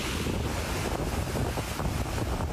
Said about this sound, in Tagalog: Ang Sabtang Batanes naman na nakaranas ng signal number 5 dahil sa super bagyong Nando, malakas na hangin at ulan ang nanalasa.